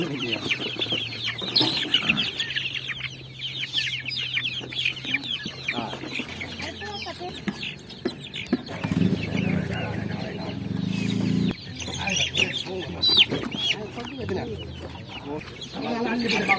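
Chickens clucking and squawking close by, busy overlapping calls throughout, with people talking underneath.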